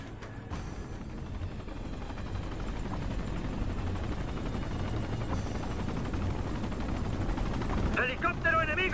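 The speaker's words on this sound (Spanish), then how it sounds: "Helicóptero enemigo." Enemy helicopter rotor drone with bursts of gunfire in the Ghost Recon Future Soldier video game, a steady dense battle din running throughout with a sharper burst near the end.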